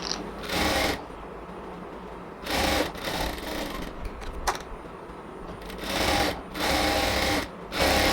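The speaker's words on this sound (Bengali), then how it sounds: "উল্টা করে ভাঁজ দিয়ে নিয়ে এবার হচ্ছে এটাকে সেলাই করতে হবে।" A sewing machine stitches a puff sleeve seam in repeated bursts of fast whirring, each lasting about a second, separated by quieter pauses with faint handling of fabric.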